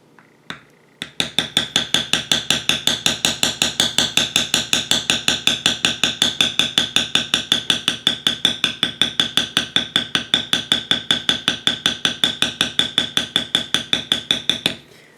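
Mallet blows strike a beveling tool on leather being carved with roses, a steady rapid run of sharp, even taps close by, dozens in succession after a couple of isolated knocks at the start.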